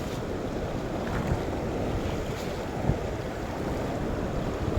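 Powerful water surging through large openings in a dam, a dense, steady roar of rushing flow with churning low rumble, loud and continuous with no voices.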